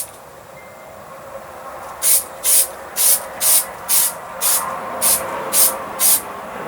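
Nine short, evenly spaced bursts of aerosol spray hiss onto the covering of a model airplane wing, following a quiet stretch of low background noise.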